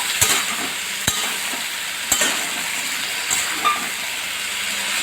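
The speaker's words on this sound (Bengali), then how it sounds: "মশলাটার আরও বেশ কিছুক্ষণ ধরে আমি কষিয়ে নেবো" Curry masala with papaya and chickpeas sautés in a pan, nearly dried out, giving a loud continuous hissing sizzle with a few sharp utensil knocks against the pan, no voices.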